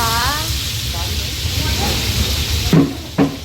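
Onions frying in cooking oil on a steel griddle give a steady, close sizzle and hiss throughout, with a couple of short clattering knocks near the end while people talk in the background.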